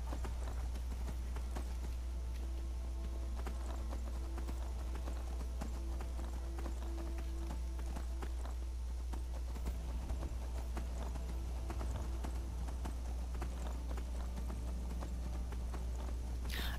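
Horse hooves clip-clop steadily in Skyrim, a continuous walking rhythm that runs throughout over a constant low game hum.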